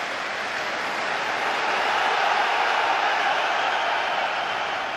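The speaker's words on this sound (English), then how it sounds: "just listen to the applause that's still ringing around the London Stadium" A big football crowd at London Stadium sends up a broad, sustained wash of applause and crowd noise, a steady distant roar that rises slightly midway and holds without breaks.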